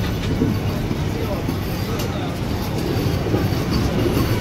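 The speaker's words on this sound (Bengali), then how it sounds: "আর ট্রেনটা যে চলছে পুরো স্মুথলিভাবে কিন্তু চলছে" An air-conditioned suburban local train runs on the Sealdah–Ranaghat line, heard from inside as a steady, loud, even rumble with faint voices mixed into the ongoing noise.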